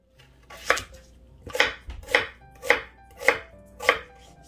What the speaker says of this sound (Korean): 양파 채 썰었습니다.